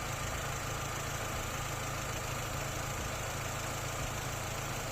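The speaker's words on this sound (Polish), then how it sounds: "o, teraz będzie słychać silnik" A Mini Cooper engine idles steadily at low pitch after a high-voltage ignition lead replacement, an even continuous hum with a faint mechanical throb and no other sounds.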